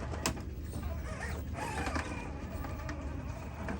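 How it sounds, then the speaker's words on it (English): An RC rock crawler on 1.9 tires clicks from flexing C-hubs, irregular mechanical ticks and creaks over a steady motor whir, close and moderately loud. "You will recognize the baseline click, which we think is flexing C-hubs"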